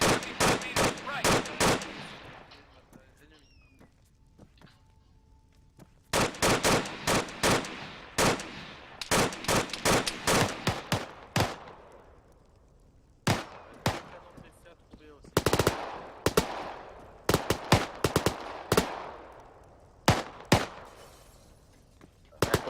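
Automatic weapons fire in the military video game Arma on the Zargabad map, with repeated bursts of sharp gunshots in clustered volleys separated by short lulls, loud and close, while faint voices talk in the background.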